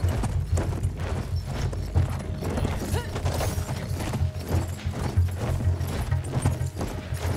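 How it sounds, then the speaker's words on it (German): Rhythmic hoofbeats of a horse in Battlefield 1 pound at a steady gallop, loud and close, with a low rumbling background and no talking. "das müsste man von Weitem hören, so ein Pferd, wenn das so angaloppiert kommt"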